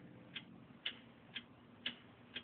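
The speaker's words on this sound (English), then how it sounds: "What is that mysterious ticking noise?" Steady mysterious ticking in a puppet comedy sketch, five evenly spaced sharp clicks about half a second apart over a faint background hum, with no talking.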